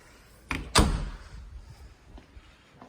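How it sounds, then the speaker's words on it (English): A cleaning closet door in a house is opened, with two sharp knocks as it moves, followed by a fading rattle and then quiet room tone. "I didn't even open this door, so let's check out what this is."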